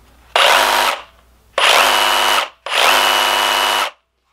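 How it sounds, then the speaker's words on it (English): Milwaukee M12 Fuel Hackzall one-handed cordless reciprocating saw running in three loud, close bursts, each about a second long, with brief pauses between them and no talking. "Here's a close-up and how it sounds. To me, it sounds a bit smoother as far as how it operates compared to the Rigid."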